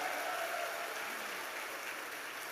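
An audience at a Successmore business event in Thailand applauds, a soft, steady wash of many hands clapping heard from a distance, faint and even for the whole stretch.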